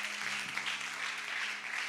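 Steady applause from a church congregation, dense clapping filling the whole stretch with no pauses, with a faint low hum underneath.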